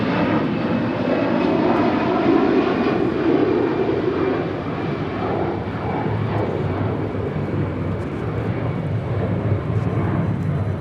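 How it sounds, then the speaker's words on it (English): An Avianca Airbus A320 taking off from LAX bound for Guatemala City: a loud, sustained jet engine roar that stays powerful throughout, heard from nearby without voices. "641 taking off to Guatemala City on an A320."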